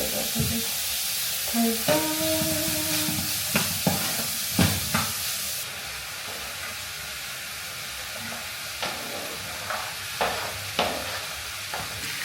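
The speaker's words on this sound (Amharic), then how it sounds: "ቀጣይ ሽንኩርት እናበስላለን" Onions frying in a pan for lasagna keep up a steady hiss, punctuated by regular scraping stirs, with a brief word spoken early on.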